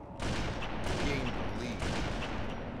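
Sniper gunfire in Halo MCC, a steady wash of battle noise with repeated sharp shots cracking through, fairly close, alongside faint voices.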